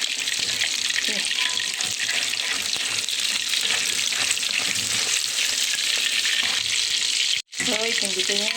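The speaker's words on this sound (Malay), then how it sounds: "kita tunggulah dia goreng" Fish frying in hot oil in a home kitchen, a steady dense sizzle and crackle running unbroken at close range, with a brief drop near the end before the spitting resumes.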